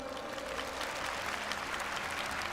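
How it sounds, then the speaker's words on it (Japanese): A large fan fest keynote audience claps steadily, a loud, even wash of applause that continues throughout with no break. "助けてくれる方、拍手お願いします。"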